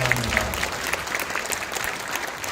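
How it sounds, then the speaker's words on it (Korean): Congregation applauding at a Dongtan Christian Federation Easter union worship service in a church, a steady wash of many hands clapping together, dense and sustained without pause, close and fairly loud, with no voices over it. "다 같이 박수를 하나님께 올리겠습니다"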